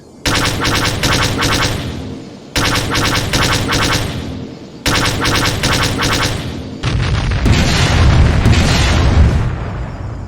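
B-Wing laser barrage against TIE fighters in a Star Wars space battle: loud bursts of rapid, stuttering laser blasts in repeated volleys, followed by a dense rumbling wash of booming explosions.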